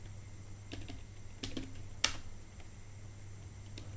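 Typing the word "yellow" into JavaScript code during an else-if tutorial: a few sparse, crisp computer keystrokes, with one sharper click among them, heard alone over a faint steady hum.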